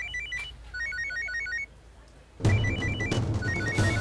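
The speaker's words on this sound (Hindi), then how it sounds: "हॉस्पिटल से फोन।" A telephone rings indoors with a repeating electronic trill. It is faint at first, pauses briefly, then returns louder with a dull knock beneath it.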